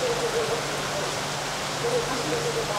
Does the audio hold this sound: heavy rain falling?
yes